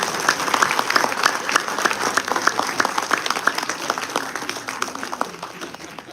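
Audience applause at a memorial cricket tournament event, a steady crowd clapping that holds for several seconds at moderate loudness and slowly eases toward the end, with no talk over it.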